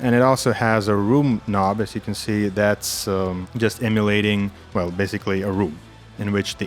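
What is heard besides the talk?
No distinct noise like a dog, phone or traffic.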